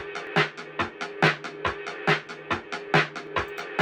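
A short drum loop repeating steadily, punchy kick and snare hits in a tight, even rhythm, played alone.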